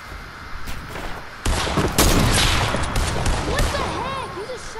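Gunfire in the video game Fortnite, a loud continuous fusillade of rapid shots that swells partway through, with players talking over it.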